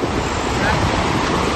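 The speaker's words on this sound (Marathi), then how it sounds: "नदी बघू शकता तुम्ही किती वाहते" Loud, steady rushing of flowing river water close by, broad and unbroken, with a windy texture.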